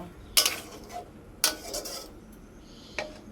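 A spoon scrapes and knocks against a pot while half-cooked sweet mango pickle with sugar is stirred, a few sharp clinks and a scraping stroke, close and fairly quiet.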